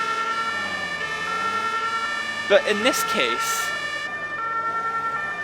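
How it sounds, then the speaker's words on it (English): Dual two-tone emergency vehicle sirens in the game Emergency 112, one electronic and one not, wailing steadily and loud throughout, while someone briefly talks over them midway. "So I know in the UK you can have dual sirens"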